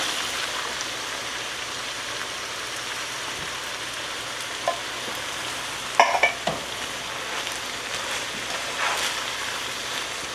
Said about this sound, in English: The pan is real hot. You just need to get that coconut milk and curry paste sort of mixed together